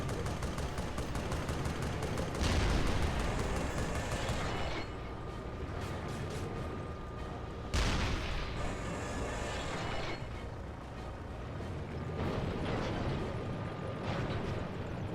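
Tank cannon blasts and machine gun fire in the Resistance: Fall of Man video game, a dense, loud run of gunfire with several heavy booming shots spaced through the sequence.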